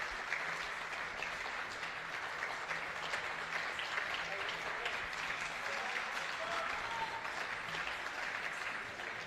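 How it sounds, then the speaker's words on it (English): Spectators at a 10-metre air pistol final applaud as coaches take their seats, a soft, continuous patter of many hands clapping, distant and even throughout. "So the audience applauding for the coaches who are coming in to take their seats."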